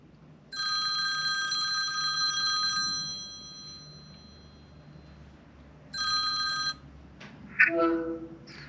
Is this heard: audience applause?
no